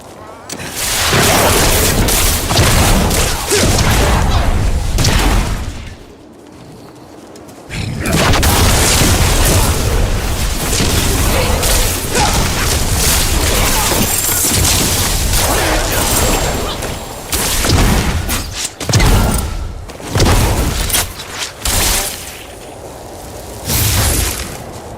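Diablo IV explosions from the Vessel of Hatred expansion erupt as loud, rumbling booms that pile up into dense, roaring bursts with cracking debris, briefly dropping away before another sustained wave of blasts and a few scattered trailing hits.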